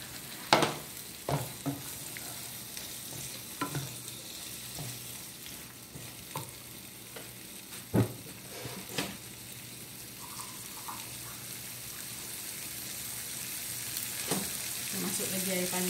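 Eggplant and chili fry in a pan in a Malaysian home kitchen, sizzling steadily while a utensil scrapes and stirs with intermittent knocks against the pan. The sizzle grows louder toward the end.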